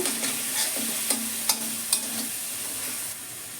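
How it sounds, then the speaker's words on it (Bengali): Spice paste of chilli powder and cumin powder frying in a pan makes a soft, steady sizzle punctuated by a few distinct spatula clicks and scrapes, close and alone. "এবার মশলাটা একটু কষবো"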